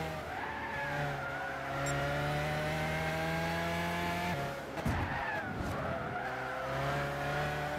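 A McLaren F1 in Gran Turismo 6 holds a long, steady tire squeal over its engine drone, with a brief scrubbing break midway before the squealing resumes; no one talks.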